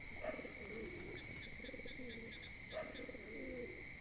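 Pet pigeons kept in a home coo softly in repeated low bursts over a steady high insect-like drone, fairly close, with no voices.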